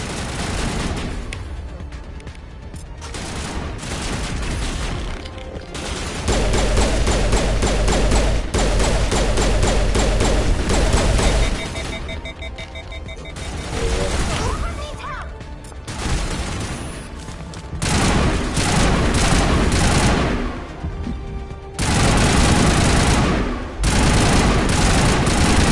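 Heavy combat gunfire in the video game Mass Effect, with long rattling bursts of automatic fire and sharp single shots alternating with brief lulls, loud and close throughout.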